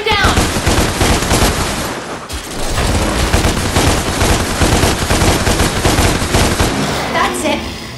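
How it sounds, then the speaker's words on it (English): Rapid, dense gunfire from guns in the action game DmC Devil May Cry, loud and near, with a short break in the middle before the shooting resumes as a continuous rattling stream. "Now use your guns to shoot him down!"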